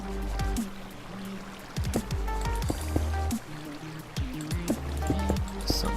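Flowing water in a block-building video game, a steady trickling stream with bubbly, gurgling pulses, close and fairly loud throughout, no talking.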